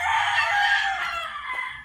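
A rooster gives one loud, drawn-out crow close by, and chickens murmur faintly underneath.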